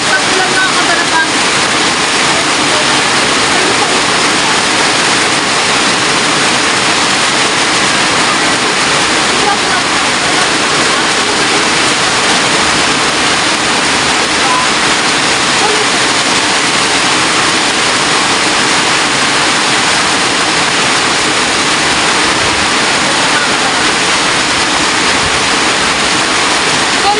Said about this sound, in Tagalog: inabot na tayo na malakas sa ulan